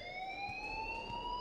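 A fire alarm in the video game Life is Strange rings as a steady, sustained electronic tone, held continuously with no breaks and heard alone at moderate volume.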